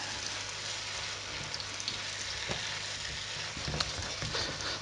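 A tomato and pepper sauce for tofu burgers sizzles steadily in a pan while being stirred, a close, continuous bubbling hiss with a few soft scrapes and taps of the spoon and no talking.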